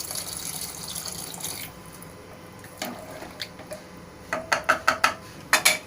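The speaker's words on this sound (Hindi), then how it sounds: "थोड़ा सा पानी और डालेंगे" A gush of water pours briefly into a pot of rajma (kidney bean curry), then settles into quieter running water broken by a rapid series of splashy drips and clinks near the end.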